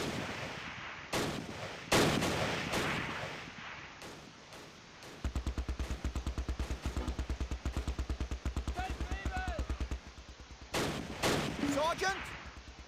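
Rapid automatic gunfire from the WWII strategy game Close Combat: Last Stand Arnhem, loud bursts with sporadic single shots and explosions, plus shouted game voices between them.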